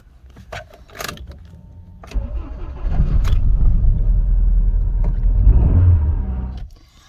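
An MG ZS with a starting problem cranks and catches, settling into a steady, loud rumbling idle before cutting off near the end.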